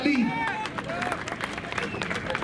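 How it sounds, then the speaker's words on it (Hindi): Rally crowd at a political speech in Aurangabad clapping, a broad wash of many hands mixed with crowd noise and chatter, with a voice rising briefly at the start. "ठोको ताली।"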